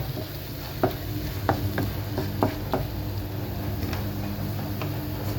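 Chilli powder being stirred into a sardine curry in a pan, with scattered sharp clicks of a spoon against the vessel over a low continuous sizzle, close by.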